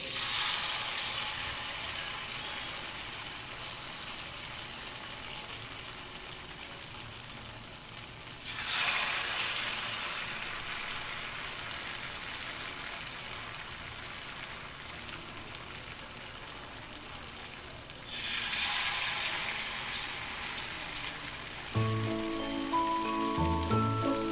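Paneer pieces coated in flour batter fry in hot oil, giving a steady hiss and crackle throughout with two louder surges, and a soft clatter near the end.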